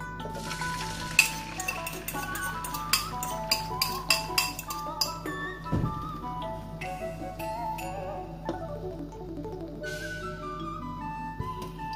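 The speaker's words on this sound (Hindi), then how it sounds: "कुकिंग ऑयल गर्म हो गया है, इसमें अब हम चिकन फूयंग डालेंगे" Chicken egg foo young fries in hot cooking oil in a pan, a soft steady sizzle under repeated clinks and taps of a utensil against the pan.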